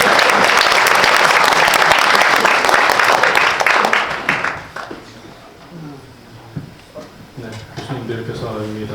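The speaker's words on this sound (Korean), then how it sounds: "박수 쳐주십시오" Audience applause at a Korean panel symposium on the semiconductor industry's response after Trump's election: loud, dense clapping for about four and a half seconds, then fading as a voice begins talking over scattered room noise.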